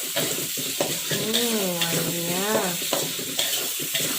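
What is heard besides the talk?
sautéing spice paste in a pan for chicken rendang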